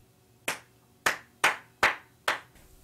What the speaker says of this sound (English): Now, everyone, applaud Dion.